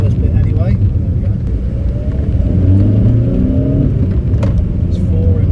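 Audi A1 accelerating hard up a hill in a low gear, a loud continuous engine drone and rising rev tones close by, with someone talking over it.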